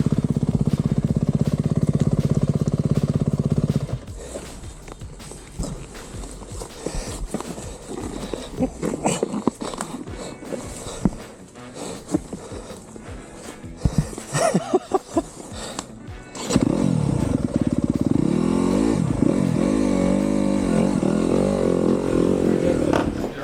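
A 2025 Yamaha YZ250FX dirt bike ridden in third gear on a grass track. A loud, close engine drones at first, turns choppy and uneven in the middle through the corners, then surges back to a strong steady pull toward the end.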